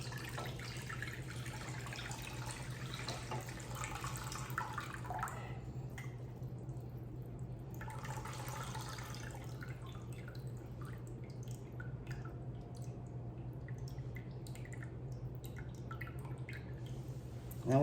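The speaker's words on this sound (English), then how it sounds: "So I'm going to just drain all of this." Juice draining from a cooked pork butt for pulled pork, a steady faint trickle and drip of liquid running through a quiet kitchen with a low hum underneath.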